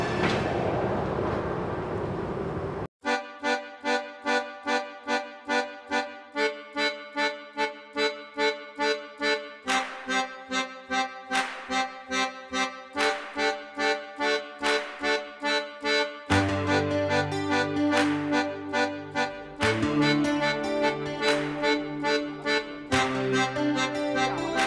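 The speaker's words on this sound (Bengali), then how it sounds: "4:50 একদম টাইমে কিন্তু ট্রেন ছাড়লো শিয়ালদা স্টেশন থেকে" A train pulls out of Sealdah station, its wheels beating a rapid, regular clickety-clack over rail joints that continues loud and close throughout, with a deeper rumbling shift near the end.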